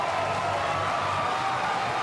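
Wellington Phoenix fans at an A-League women's football match roar and cheer after a goal, a loud, sustained wall of crowd noise with clapping mixed in, unbroken throughout.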